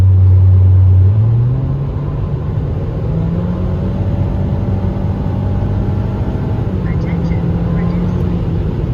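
A car driven hard on the highway, its steady low engine and road rumble droning throughout at close range, with a brief rise in pitch early on and no voices.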